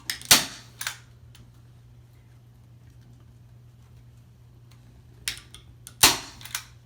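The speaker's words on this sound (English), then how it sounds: "you just kind of staple wherever you can staple, and that'll go through." Staple gun driving staples through fabric into a wooden canvas frame, four sharp snapping clacks, two close together at the start and two more several seconds later, over a low steady hum.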